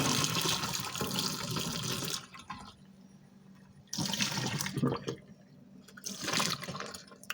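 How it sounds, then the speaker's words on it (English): Boiled water is poured into a household drain during drain cleaning, giving two loud gushing, splashing bursts with a quiet gap between them and the start of a third. No one speaks. "I'm going to pour half on this side."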